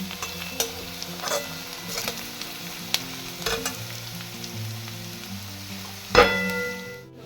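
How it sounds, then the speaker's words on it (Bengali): Mutton fat fries in its rendered oil with a continuous crackling sizzle and occasional stirring scrapes, then a sharp splash-and-hiss burst as tomato hits the hot fat. "চর্বিটা আমি খুব ভালো করে ভেজে নিয়েছি দেখুন চর্বিটা থেকে তেলও ছেড়ে দিয়েছে এখন এতে আমি দিয়ে দেবো টমেটো"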